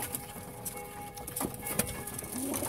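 Pigeons cooing in a small pigeon loft at feeding time, soft repeated coos mixed with wing flutters and light scuffling from birds nearby, with occasional sharper taps and a low steady background hum.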